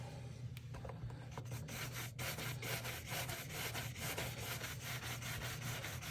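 Cordovan cream being rubbed into a leather shoe, a steady, soft, rhythmic scrubbing and rasping of cloth on leather, close and fairly quiet with no talk.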